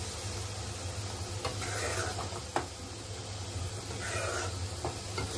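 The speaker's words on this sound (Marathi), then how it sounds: "साखर चांगली आटून घ्यायची आहे।" Sugar cooking down into syrup in a pan gives a soft, continuous sizzle and bubbling hiss, with a few light stirring scrapes and clicks, close and fairly quiet.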